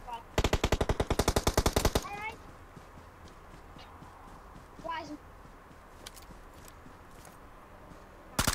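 Machine gun fire from a video game bursts loudly in a rapid two-second volley, followed by quieter in-game sounds and scattered distant shots while players talk.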